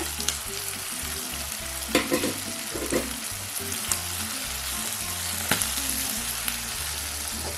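Chopped tomatoes sautéing in hot oil for a village-style country chicken gravy: a constant close sizzle with occasional scraping stirs and a low rhythmic burner rumble, no voices.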